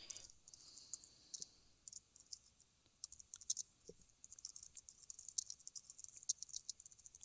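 Fingers tap out a message on a computer keyboard in quick, irregular bursts of light, close clicks in a quiet room.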